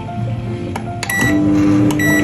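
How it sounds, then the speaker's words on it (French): A microwave oven runs with a steady humming drone, warming a frozen dish for two minutes, with a couple of faint clicks and a slight rise in level partway through. "Donc là, on le met au micro-ondes pendant 2 minutes."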